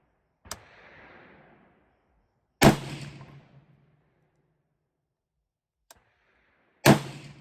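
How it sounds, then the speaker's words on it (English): Desert Tech MDRX rifle gunshots with heavy muzzle blast, two loud sharp reports a few seconds apart, each with a booming low rumble that decays over about a second, plus two fainter distant cracks, outdoors with no voices. "Wow, that's got a lot of muzzle blast."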